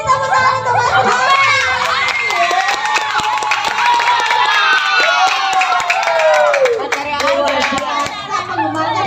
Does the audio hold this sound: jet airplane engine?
no